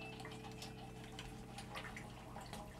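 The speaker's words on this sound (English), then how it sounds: "So now I pour the oil in through another screen." Plant oil pours steadily through a screen into a barrel, making a faint, continuous trickling and splashing sound with small ticking drips, with no talking.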